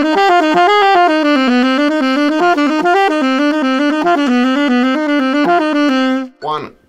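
A saxophone plays a quick finger exercise, a rapid, even run of repeating note patterns that shifts key as it goes, loud and close, ending in a brief breath or voice sound.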